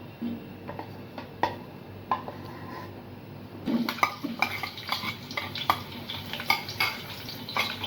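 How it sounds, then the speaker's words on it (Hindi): Onions fry to golden brown in a pot for chicken pulao, a continuous close sizzle broken by repeated scraping and knocking of a spoon against the pot, with no voices. "प्याज को गोल्डन कलर का करना है फ्राई।"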